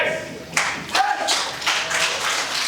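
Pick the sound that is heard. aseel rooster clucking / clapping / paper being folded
clapping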